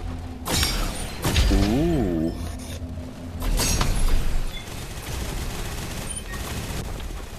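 Bursts of gunfire and impact crashes in the Gun Raiders shooter, loud and close, with a brief warbling tone and game noise between the shots.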